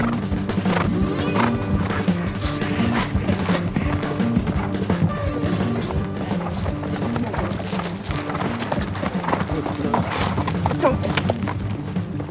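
Horses gallop across barren desert during a human-versus-horse race, hoofbeats thudding steadily and continuously at close range with occasional whinnies, while a voice talks over the running.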